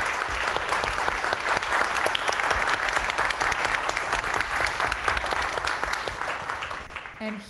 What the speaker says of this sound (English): Can we have a round of applause for our fabulous panel?